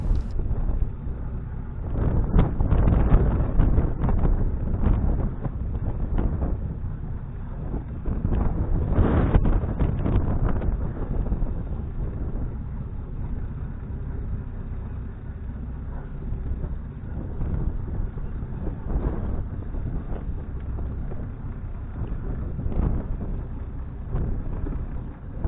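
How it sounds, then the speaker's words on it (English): Wind blowing at a marina, a steady rushing roar buffeting the microphone with stronger gusts early on, continuous and loud with no talking. "It is a bit windier"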